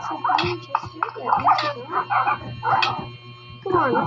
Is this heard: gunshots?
no